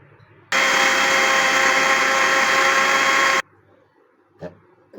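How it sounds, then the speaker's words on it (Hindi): A blender blending beetroot for juice roars loudly at a steady pitch for about three seconds, then cuts off, followed by a couple of faint clinks. "तो अब हम इसको ब्लेंड करके दिखाते हैं आपको"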